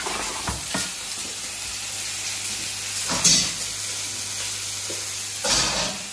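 Vegan crispy beef tossed with vegetables and sauce sizzles steadily in a hot pan, with a few sharp stirring clatters and bursts of steam over the constant frying hiss.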